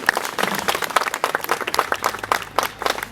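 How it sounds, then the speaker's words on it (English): A crowd of guests at a dinner party gives a loud round of applause, with sharp, uneven individual claps standing out against a lively room. "So let's give him a big round of applause"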